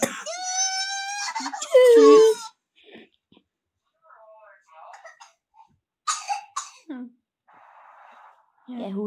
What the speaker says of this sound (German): Er hustet das Baby erstmal an.